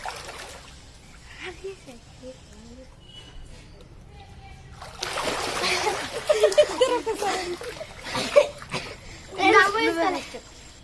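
Children splash and dive in a water tank at home during a breath-holding challenge, with bursts of close splashing and sloshing in the second half, mixed with kids' voices and talk.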